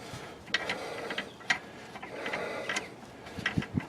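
A ratchet loosens and backs out a bolt on a rear differential brace, making close, quiet bursts of rapid clicking with short pauses between strokes.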